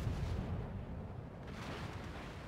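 Naval gunfire from warships in World of Warships, a sustained rumbling barrage with heavy low booms rolling on continuously at moderate loudness, no voices.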